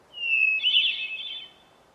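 A single hermit thrush song phrase rings out clearly: a pure held whistle that breaks into a fluttering, ringing trill before fading, with no other sound around it.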